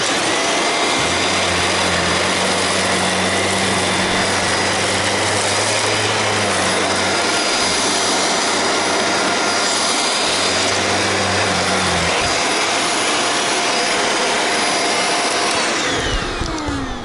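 Shark or Dyson vacuum cleaner sucking up a handful of test debris, a loud steady whine running throughout with a low motor drone that shifts and cuts out near the end.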